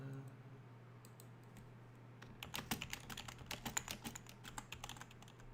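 Typing on a computer keyboard during a multiplayer game, a quiet room hum at first, then a burst of rapid, close key clicks in uneven runs.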